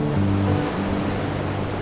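Ocean surf rolls and breaks in a steady, loud roar of wave wash, broad and continuous throughout with a low rumble underneath and no talking.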